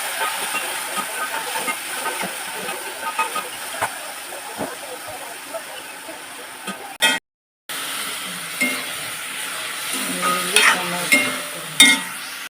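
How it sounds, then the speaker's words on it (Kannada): Onion, tomato and curry leaves sizzle steadily in hot oil with a constant hiss, occasional stirring clatter and a brief dropout midway, close and moderately loud. "ಇವೆಲ್ಲ ಹಾಕಿ ಎಣ್ಣೆಯಲ್ಲಿ ಚೆನ್ನಾಗಿ ರೋಸ್ಟ್ ಮಾಡಿ"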